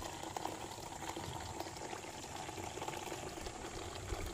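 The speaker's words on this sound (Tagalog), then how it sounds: "Mas lumakas ang tubig. Dahil maraming laman ng hose." Water gushes steadily from a full hose with a strong, continuous rushing sound, loud and close, without pause.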